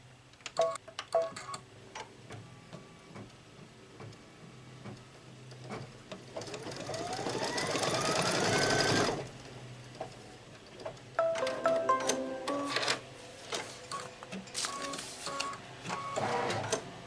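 An embroidery machine stitches a quilt piece in the hoop for a Kimberbell cozy wall hanging, with rapid, steady mechanical stitching, a whine that rises and then cuts off, and more stitching bursts after. No one speaks.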